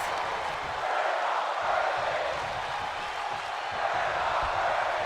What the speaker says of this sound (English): Why is the crowd chanting "We're not worthy"?